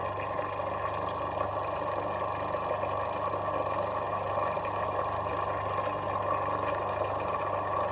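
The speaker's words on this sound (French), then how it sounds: "Mais petit à petit on entend tout de même que le son du robot change" A small food processor motor whirs while blending homemade mayonnaise, giving a steady, continuous droning hum. The sound stays constant and moderately loud throughout with no talk over it.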